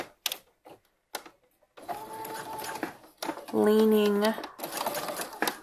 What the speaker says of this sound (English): it only takes a few seconds to run the second basting stitch